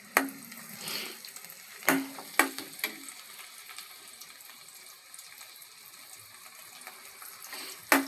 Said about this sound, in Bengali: মরিচ, পেঁয়াজ এবং রসুন কিছুক্ষণ ভেজে নিতে হবে।